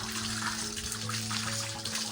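Water runs steadily from a tap, a continuous splashing rush with a low steady hum underneath.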